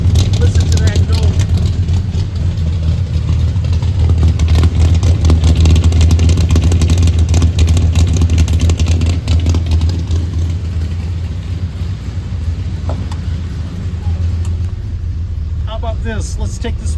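Exhaust note of a 1973 Ford F250 Highboy 4x4 pickup, a steady, loud low rumble of the engine running close by for the whole stretch, with no talk over it.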